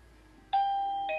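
A battery-powered WiFi smart doorbell rings with a two-tone electronic chime, a bright first tone held, then a second note, over a quiet room.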